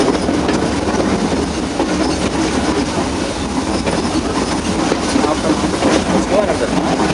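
An Ooty mountain railway train runs downhill with loud, continuous rumbling and rhythmic clickety-clack of wheels on the rails, heard up close the whole time.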